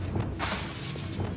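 Revelio revealing spell cast in Hogwarts Legacy: a short shimmering, glassy burst with a swishing rush, loud and close, lasting about a second.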